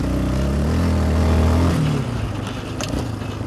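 A Yamaha 700 Raptor quad with its stock silencer drones loudly at steady engine speed, then its note drops as the engine is let off, leaving a rougher, lower rumble with scraping and wind noise.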